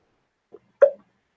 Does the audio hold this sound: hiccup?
yes